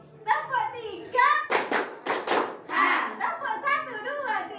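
A class of students claps a counted rhythm of one, two and three, with short bursts of hand claps alternating with children's chanting voices in a classroom, near and moderately loud.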